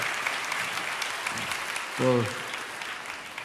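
An audience at a Hindi Christian testimony gathering applauds in a steady, dense wash of clapping that runs the whole time, with a short spoken word cutting in near the middle.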